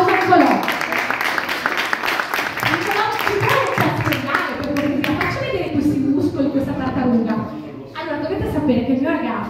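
Live audience at an Italian stand-up comedy show in Mestre clapping and cheering for the comedian's boyfriend, a sustained burst of applause with crowd noise and some voices mixed in, easing briefly near the end before swelling again.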